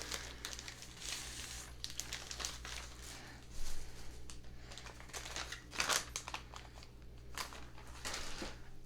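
A mailed monthly paper subscription box is opened by hand, with soft crinkling and rustling of paper and tissue wrapping in quiet, irregular bursts over a steady low hum.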